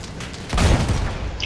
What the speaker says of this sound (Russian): мы стреляем, и там дым вылетает в правильном направлении